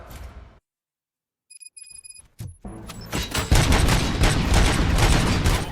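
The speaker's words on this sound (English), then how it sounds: "Gunshots? What's going on?" Gunfire in the RoboCop Rogue City video game, starting after a brief silence and a few electronic tones, then building into loud, rapid volleys of shots and booms that keep going to the end.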